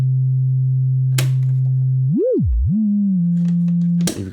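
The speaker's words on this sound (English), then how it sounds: "You've got a sine output." A Make Noise ReSynthesizer modular synth outputs a loud, pure sine tone that holds steady, swoops up and down in pitch, then settles on a new note, with faint clicks along the way.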